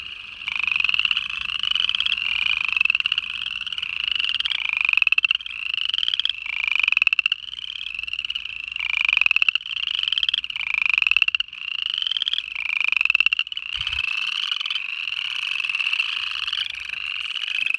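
A dense outdoor chorus of upland chorus frogs and American toads at a pond, rhythmic rising trills and long toad trills pulsing continuously and loudly, many callers overlapping.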